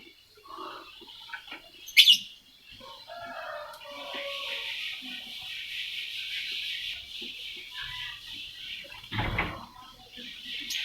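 Lovebirds at a bird farm give a dense, continuous chatter of high chirps and tweets, with a few louder calls near the start and voices and handling noises underneath.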